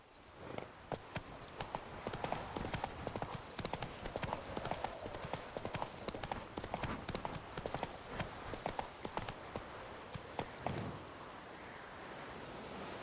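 Roach, a horse in The Witcher 3, gallops in a quick, steady clip-clop of hoofbeats that runs throughout at moderate volume, with a soft rain-like patter underneath.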